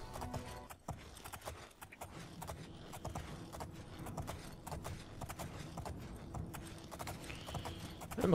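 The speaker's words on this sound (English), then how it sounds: "I'm going up here on the horse" Horse hooves clip-clop steadily while riding in The Elder Scrolls IV: Oblivion, a continuous rhythmic trot under game ambience with some mechanical clinks, no talk.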